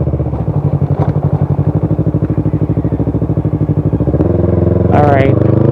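A motorcycle engine labors on a rough, unpaved stretch of road near Glan, Sarangani, its rapid steady throb loud and close, surging slightly heavier near the end.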